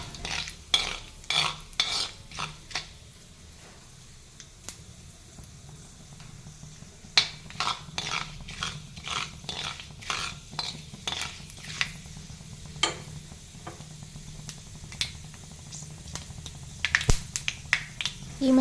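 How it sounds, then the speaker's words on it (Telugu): Fenugreek seeds frying in hot oil for a tomato chutney, a low steady sizzle broken by many sharp pops and crackles scattered throughout, close and fairly quiet, no talk. "ఈ మెంతుల్ని ఒక 2 నిమిషాల పాటు ఆయిల్లోనే వేయించుకోవాలి."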